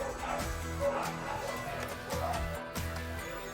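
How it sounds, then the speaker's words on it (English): Several dogs bark in repeated rough bursts, clear and fairly near, over a steady background hum. "I hope the dogs are barking at somebody trying to take my internet"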